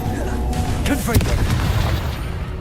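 Confringo fire spell exploding in Hogwarts Legacy: a deep boom with crackling bursts amid a dense, loud game soundscape, with a voice speaking over it.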